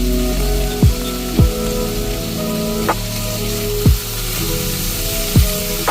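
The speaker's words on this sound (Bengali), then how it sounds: "সবজিগুলো সটে করার জন্য আমি চুলার আঁচটা মিডিয়াম রাখছি" Vegetables for chicken chow mein sauté in a pan over medium heat after a pinch of salt, giving a steady, even sizzle broken every second or so by recurring swooping tones.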